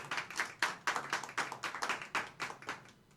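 Hands clap in a quick, even rhythm in a talk-show studio, a short burst of sharp claps that sounds like only a few people rather than a large crowd, with no talking.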